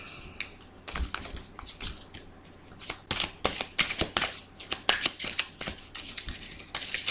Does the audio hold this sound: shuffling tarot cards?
yes